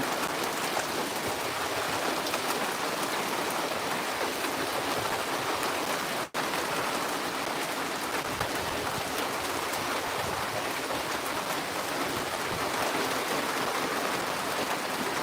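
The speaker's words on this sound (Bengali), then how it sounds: "এই পাশে কিন্তু প্রচুর বৃষ্টি পড়তেছে" Heavy rain pours down in a dense, unbroken roar that stays loud and uniform from start to finish, with no voices and barely a pause.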